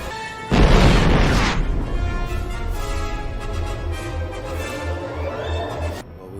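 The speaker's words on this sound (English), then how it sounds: "It's a tracked missile." A loud, close tracked-missile explosion from a Star Wars film, a sudden deep boom that roars and rumbles before fading with a lingering musical score underneath.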